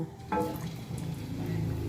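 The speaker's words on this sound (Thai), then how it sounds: "นี่เราเอาเผือกไปทอดนะคะ" Sliced taro sizzles steadily in hot oil, with a brief crackle as the pieces go in, then a low, continuous frying hiss heard close up in a home kitchen.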